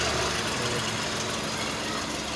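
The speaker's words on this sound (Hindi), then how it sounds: "ये देखें गाड़ी का इंजन रूम" A 1984 Suzuki FX car engine idles steadily, a low, even hum with broadband noise, heard close and without talk.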